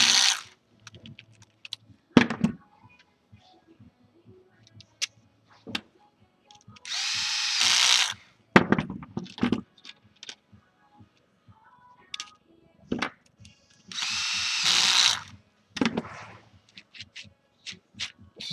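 Electric screwdriver driving screws into an airsoft gearbox, with short whirring bursts separated by quiet gaps and small clicks and handling noises, close up and without speech.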